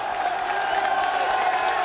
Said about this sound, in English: Listen to the crowd roaring home.